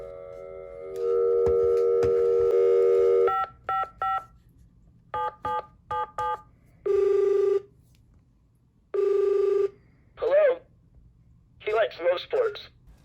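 A telephone call placed on speakerphone: a steady tone, then a quick run of touch-tone dialing beeps and two longer ringback tones, before a voice answers over the line.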